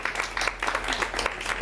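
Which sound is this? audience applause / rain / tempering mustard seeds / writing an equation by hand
audience applause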